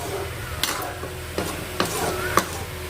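A ladle gently stirs a simmering dried fish curry, karuvadu kuzhambu, in a pot with soft, faint scraping touches at irregular intervals over a low steady bubbling background.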